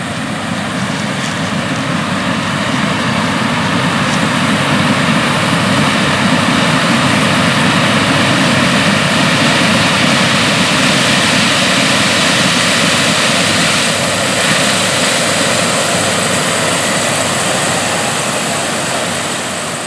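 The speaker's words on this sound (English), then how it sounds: "The machine that we've been watching in this video, equipped with the new John Deere track system, is a model year 2019 John Deere S790 Combine" A 2019 John Deere S790 combine harvester on tracks runs with a 24-row corn head, a loud, steady engine and machinery roar with dense broadband rumble continuing without a break.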